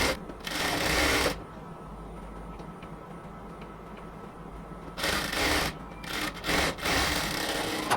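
A sewing machine stitches a folded black border onto a cotton kameez, running in a loud burst, easing to a lower steady hum, then resuming in several short bursts.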